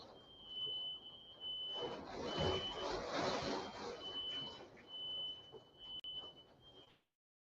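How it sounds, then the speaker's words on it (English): A smoke alarm beeps with a steady high-pitched tone, repeating over several seconds, with household noise and faint voices in the background. "my damn smoke alarm going off"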